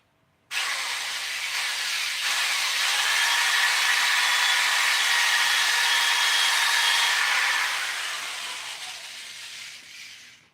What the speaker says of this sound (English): I'm going to be smart now, and I'm going to pre-drill this